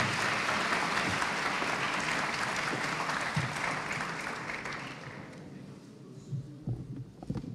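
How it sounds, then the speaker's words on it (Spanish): Loud, dense applause from an audience at a school debate tournament in Valparaíso, sustained for several seconds and then thinning out into a few scattered claps near the end. "Un fuerte aplauso"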